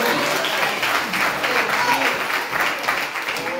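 A church congregation claps together in praise during a sermon, a steady dense patter of hands that fills the room, with a voice or two rising faintly within it.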